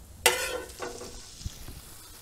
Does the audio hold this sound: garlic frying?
yes